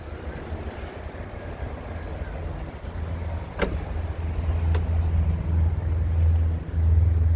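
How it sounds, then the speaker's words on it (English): Power tailgate on a 2012–2013 Mercedes ML350 W166 SUV operating, a steady low motor hum that builds and holds for several seconds, with a couple of brief clicks partway through. "Auto tailgate."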